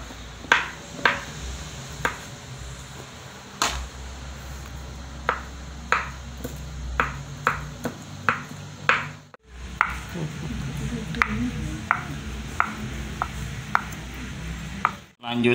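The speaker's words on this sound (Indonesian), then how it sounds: "Cara begini sosisnya diiris-irisnya." A knife cuts sausage into slices on a board for egg martabak wrapped in spring-roll skins. The cuts come as sharp, separate knocks at an uneven pace, heard close over a faint room hum, with a short pause midway.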